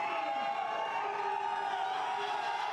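A large arena crowd at the 2023 Rogue Invitational strongman competition cheers in a steady, sustained roar behind Luke Stoltman's lift.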